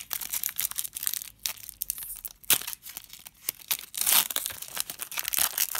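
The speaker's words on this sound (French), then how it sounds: "Le booster est bien défoncé. Et donc, on va ouvrir ça gentiment." Foil wrapping of a trading card booster pack tears and crinkles up close, in uneven bursts of crackling with short pauses, loud and with no voices.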